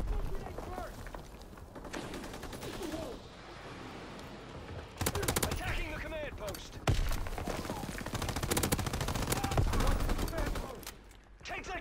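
Rapid rifle and machine-gun fire during a command-post fight in a WW2 shooter, with sharp bursts and volleys rising and falling over several seconds while players talk underneath.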